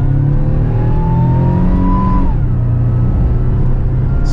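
Supercharged 1998 Buick Park Avenue Ultra, stock with traction control off, accelerating hard on a 0-60 run: a loud, close engine roar climbing steadily in pitch, then dropping abruptly at a gear shift and pulling on, no talking.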